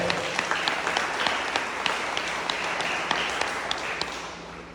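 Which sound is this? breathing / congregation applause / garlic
congregation applause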